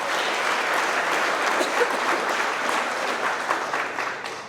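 A crowd at a trucking company's monthly employee awards celebration claps and cheers in sustained, dense applause that stays loud throughout, then tapers slightly at the end.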